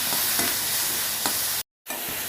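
Thuthuvalai leaves being sautéed in a pan, a close, steady frying sizzle with occasional stirring scrapes and a brief dropout near the end.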